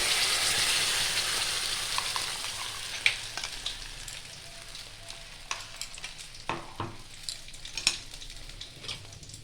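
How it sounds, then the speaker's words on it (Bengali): Onion, ginger, garlic and tomato paste sizzles steadily in a hot kadai, with a dense continuous frying hiss and scattered sharp crackles and spatters throughout. "দিয়ে আমি এই যে পেস্ট করে রেখেছিলাম পেঁয়াজ, আদা, রসুন, টমেটো, পেস্টটা ঢেলে দেবো"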